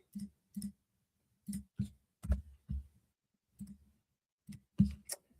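Keyboard keys clicking in short, irregular bursts of a few strokes each, close and fairly quiet, with pauses between and no talking.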